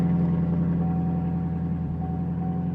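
Bentley engine idling steadily in a salvage auction yard after starting, a continuous low mechanical rumble with a faint whine, moderately loud and alone.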